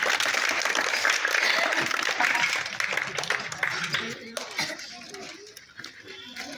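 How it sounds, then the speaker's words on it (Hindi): A street show crowd in an Indian town square claps briefly, the applause strongest at first and then thinning out as voices and general crowd noise take over. "एक बार तालियां बजा दो हनुमान जी के नाम से।"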